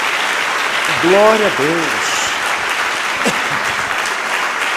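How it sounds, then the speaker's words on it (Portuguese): A church congregation applauds in a dense, loud, sustained roar of clapping that fills the whole space, while a voice calls out over it twice near the start. "Dê mais uma salva de palmas a Jesus."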